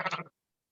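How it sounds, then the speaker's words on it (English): A single short sheep bleat in Ireland, close and clear, cut off abruptly after a fraction of a second, followed by silence. "that's enough sheep"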